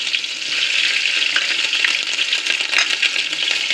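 Chopped garlic and ginger fry in a pan for restaurant-style chicken fried rice, giving a steady, close, bright sizzle with light stirring scrapes throughout and no talking.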